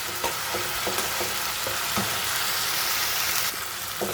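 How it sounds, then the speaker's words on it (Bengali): Fish spice paste with ground onion, garlic and ginger sizzles steadily in a hot pan, with a few stirring knocks scattered through the continuous frying hiss. "এই যে আমি এখানে মাছের মশলার কষাতে দিয়ে দিলাম।"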